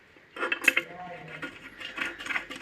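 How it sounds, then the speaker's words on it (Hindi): A nut is threaded and tightened onto the metal mount of a Powerbeam AC Gen2 antenna, giving faint close metallic clinks, scrapes and small rattles in irregular bursts that run throughout. "अभी मैं नट लगा रहा हूँ इसके बाद अच्छी तरह से मैं इसको टाइट करूँगा"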